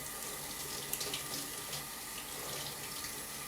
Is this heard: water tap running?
yes